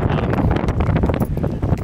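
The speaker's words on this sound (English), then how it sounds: "It's extremely windy right now, so if you hear wind, that's why." Strong wind buffets the microphone in a steady, loud roar of low rumbling gusts that never lets up.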